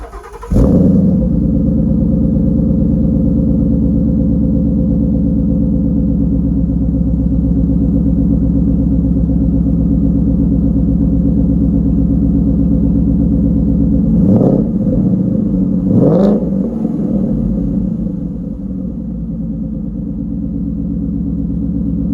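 A 2017 Ford Mustang GT V8 fires up close and settles into a loud, deep, steady rumbling idle, with two sharp throttle blips about two thirds of the way through before it drops back to idle.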